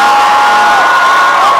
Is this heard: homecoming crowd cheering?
yes